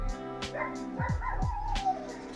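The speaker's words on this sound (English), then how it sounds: "this back, dog is seriously barking" A dog barks repeatedly in the background, a few sharp yipping barks with whimpering tones, moderately loud under a general indoor ambience.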